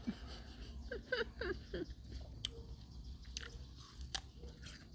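Someone bites into and chews a fresh, sweet, crunchy rose apple, with close, crisp crunches and wet chewing in a quick run early on, then a few sharper bites spaced apart against a soft background.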